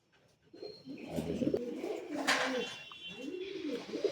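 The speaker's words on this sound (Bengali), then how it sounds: "এই আরেক জোড়া 8-7 লাইনের পায়রা আছে" Tippler pigeons coo close by, a few soft, rolling low coos in a loft with faint background noise.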